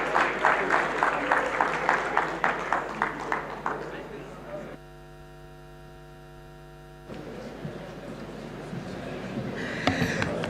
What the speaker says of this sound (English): Round of applause, please, for the Senator.